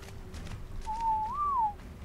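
A single short whistle command in the video game ARK Extinction, a clear tone that holds steady and then rises briefly before falling away, heard alone over a low background hum.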